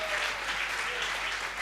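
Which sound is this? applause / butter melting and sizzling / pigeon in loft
applause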